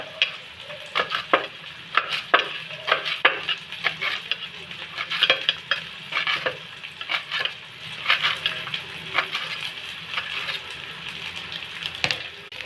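Onion sautéing in a pan until lightly pink, a soft steady sizzle broken by frequent scraping stirs of a spatula, close and fairly quiet.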